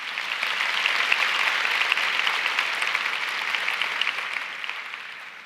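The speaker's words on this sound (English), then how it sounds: "one more round of applause for the leader who I most admire" An audience at a Hustle Con 2016 talk applauds a mother: a broad, even roar of many hands clapping, sustained for several seconds and slowly thinning toward the end.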